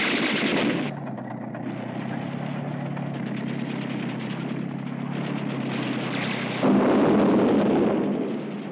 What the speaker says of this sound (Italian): I tedeschi stanno sparando sulla nostra postazione